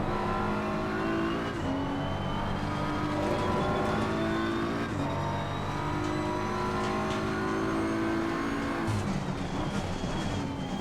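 Race car engine in the Assetto Corsa Competizione racing game, a loud steady engine note rising and falling through gear changes in close traffic, with brief tire and shift sounds and no talk.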